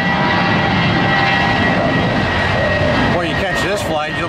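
A Spirit Airlines jet airliner on a flight to Fort Lauderdale roars loudly and steadily at close range, with talking heard over the engine noise near the end.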